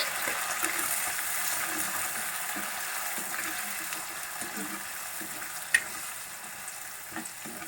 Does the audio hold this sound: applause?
no